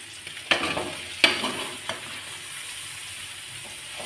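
Cauliflower curry with coconut powder stirred in a pan, a few sharp scraping clinks from the spoon over a steady soft sizzle, close and moderately loud with no talking.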